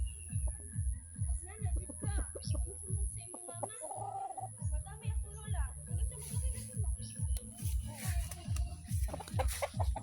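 Chickens on a rural province farm cluck in quick, repeated bursts close by, with a person talking over the flock throughout.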